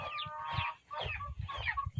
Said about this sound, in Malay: ni anak-anak ayam ni Pak Long dah bawa mai ke sini.